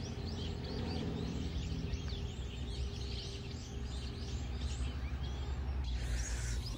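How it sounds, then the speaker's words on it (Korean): Songbirds chirp and twitter outside an open window on a bright day in Jeju, their calls repeating steadily over a constant low background hum, moderately distant and fairly faint, with no talking. "새소리 장난 아니야."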